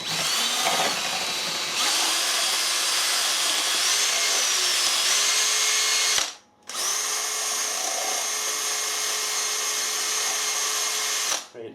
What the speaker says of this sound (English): I won't use a DeWalt to mix the eggs because the battery is flat on the Makita.